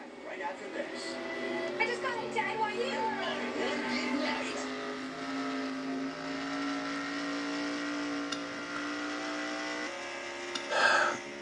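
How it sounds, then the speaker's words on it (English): A race car engine sputtering and dying after a crash in a stock car racing video game, a low droning motor tone that gradually sags, with a commentator talking over it and a brief burst of noise near the end. "you can hear Jessica Shelton's motor dying on her just about"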